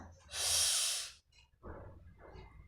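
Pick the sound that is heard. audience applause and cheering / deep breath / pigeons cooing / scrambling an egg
deep breath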